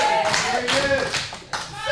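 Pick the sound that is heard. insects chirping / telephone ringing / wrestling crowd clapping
wrestling crowd clapping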